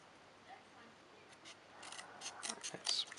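Small scissors of a Victorinox Huntsman Swiss Army Knife snip through material in a few quick, close cuts, faint at first and growing into sharper crisp clicks toward the end, with no talking.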